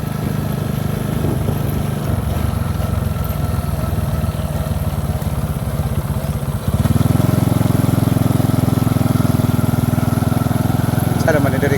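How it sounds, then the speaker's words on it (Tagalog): A motorcycle engine runs fast on a rural road, its drone close and steady throughout. The engine grows louder and fuller partway through and holds there to the end. "Kusog mga dagan ang motor."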